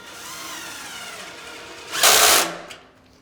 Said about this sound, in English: And drill the bottom one in.